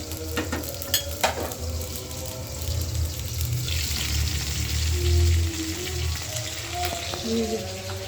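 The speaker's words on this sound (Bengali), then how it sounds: "বোয়াল মাছ ভাজা নিচ্ছি আমি।" Boal fish fries in a pan in a home kitchen, a close crackling sizzle with utensil knocks early on and a low steady hum underneath.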